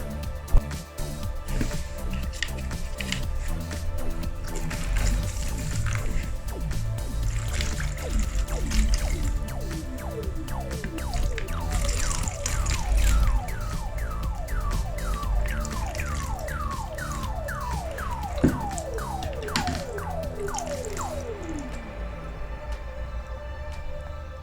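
Water rinses out a cleaned Opel 1.9 CDTI Z19DT/Z19DTL EGR valve, a steady close trickling and splashing that runs continuously for about twenty seconds with shifting whistling tones, without speech.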